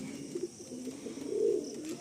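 Giribaj pigeons, an old collection kept in a loft, give soft, low cooing that swells into a louder coo near the end, with a steady hum of background noise and no speech.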